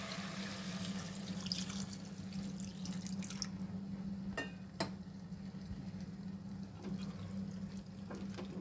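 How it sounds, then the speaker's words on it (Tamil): Water trickles and splashes quietly into a cooking pot of country chicken gravy against a low steady hum, with a few sharp drips and clinks standing out. "வேகிறதுக்கு தேவையான நம்ம தண்ணி அதில் விட்டுருவோம்."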